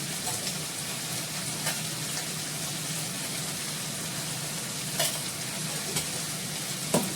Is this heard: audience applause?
no